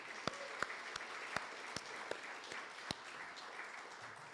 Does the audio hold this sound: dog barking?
no